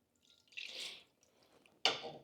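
Water poured into a cooking pan for washing it out, a short splashing pour followed by a sharper, louder splash near the end, close by with no talk.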